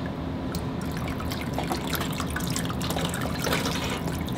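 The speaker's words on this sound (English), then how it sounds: "So I actually don't want an even application. That's why I can do this pouring." Ceramic glaze poured by hand over a bonsai pot, a steady close liquid trickle and drip running continuously throughout with no talking.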